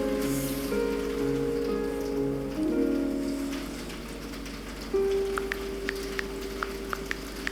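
Steady rain pattering on a surface with scattered drip-like ticks, continuous and moderately loud, alongside faint tonal hum from background music.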